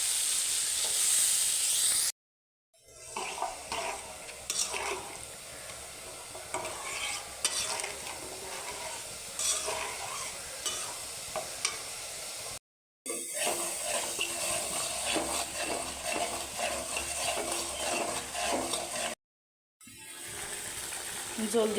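Shrimp and jackfruit seeds stir-fried in a pan, with a steady sizzle, scraping and clatter of the spatula running almost throughout, broken by two brief silent gaps.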